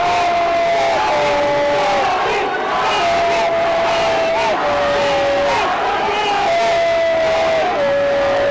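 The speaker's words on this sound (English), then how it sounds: "And the crowd's going crazy right now." Arena crowd at an NFC mixed martial arts event roars, cheers and yells steadily during a fight, loud and continuous, with shouted whoops rising over the din and a commentator's voice running underneath.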